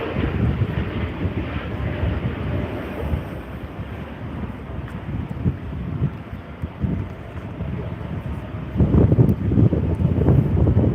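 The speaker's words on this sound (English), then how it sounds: "This Jetstar A320-200 has just crossed over runway 25." A Jetstar Airbus A320-200 airliner passes over runway 25, its engines a steady low rumble blended with gusty wind, swelling louder near the end.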